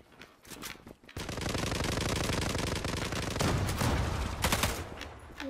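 Sustained automatic gunfire in the shooter game Zula rattles in a long continuous burst, with a few sharper shots near the end and a brief quiet gap at the start.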